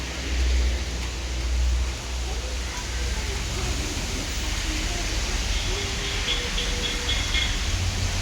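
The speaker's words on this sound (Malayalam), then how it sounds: "നല്ല മഴയുണ്ട്, നല്ല മഴ" Steady, heavy rain pours in a broad, even hiss throughout, with a low rumble underneath and occasional faint voices in the background.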